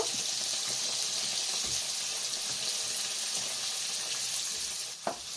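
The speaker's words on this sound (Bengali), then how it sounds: "গ্যাসটা কম করেই আলুটা দিচ্ছি। আলুটাও আমি হালকা লাল করেই ভেজে নেব।" Potato pieces frying in oil in a pan over a low gas flame, giving a steady, dense sizzle that holds evenly throughout with only a small knock near the end.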